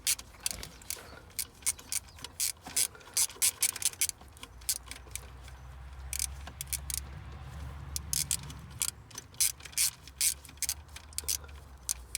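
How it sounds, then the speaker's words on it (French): A ratchet wrench turns a bolt while a starter is swapped on a Citroën C5 X7 HDI 140, giving quick bursts of sharp, close clicking in an irregular rhythm with short pauses. "Je vais prendre le cliquet."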